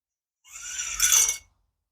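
A short, bright mechanical scrape and rattle, about a second long, as the front brake lever and cable come away from a vintage Raleigh Shopper bicycle, close and alone in the quiet.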